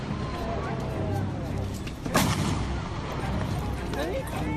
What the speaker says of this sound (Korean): 곧 이은 두 번째 총성